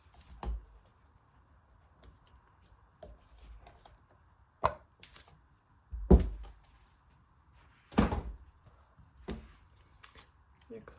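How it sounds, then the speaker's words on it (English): Knife cutting through an unmolded bar of indigo and activated charcoal soap, sharp close thunks spaced a second or two apart over a faint room hum, a few lighter taps and handling knocks between. "let's get it unmolded and chopped up"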